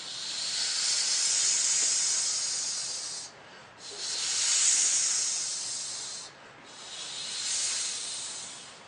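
A person demonstrates a controlled exhalation during a breathing exercise: three long, steady breath hisses separated by short pauses, close and fairly soft, with no talking.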